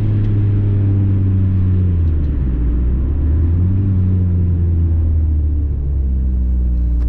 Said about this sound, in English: there's a bit of spirited driving for you guys.